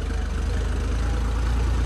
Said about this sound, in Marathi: ट्रॅक्टर चालू आहे ट्रॅक्टर बंद नाही